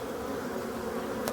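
Honeybees swarm out of their hives in a loud, continuous close buzzing that stays steady, with one brief sharp tick near the end.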